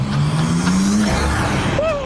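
A rented car with a port-injection engine revs loudly on a New York City freeway, a steady close engine drone with rising pitch and some tire and road noise, plus a brief whistle-like pressure release near the end.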